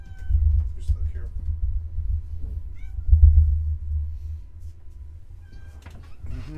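A cat meows a few times in a short, faint series during a low, steady background rumble, with the meows scattered across the clip and the rumble swelling in the middle.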